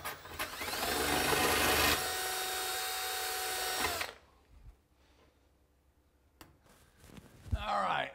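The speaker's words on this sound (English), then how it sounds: "I'm going to go ahead and drill these out." A power drill whines steadily for several seconds drilling holes in a wall for anchors, pausing briefly mid-run, then falls quiet before a few faint knocks and handling noises.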